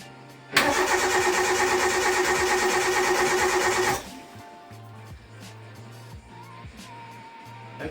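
A car engine cranks and catches on its first start attempt after a full teardown, roaring loud for about three seconds, then dropping to a quieter, steady idle with light clicks and ticks.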